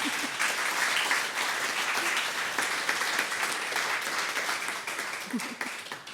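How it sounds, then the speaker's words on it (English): An audience applauds at an EP launch and Refugee Week concert, a dense wash of clapping that holds steady for several seconds and thins slightly toward the end. "So let's give a round of applause to everyone joining us this evening from all over the world."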